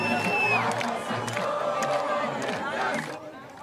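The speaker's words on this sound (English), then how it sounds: "People cheered in the streets and shot off fireworks" Crowds of Syrians cheer and shout in the streets of Damascus at a celebration, with loud overlapping voices and whoops. A brief whistling tone rises above them near the start, and the noise fades toward the end.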